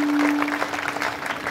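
An audience claps for a couple at a devotional Harinam Saptah and Dnyaneshwari recitation gathering, a brief, steady burst of dense applause close by.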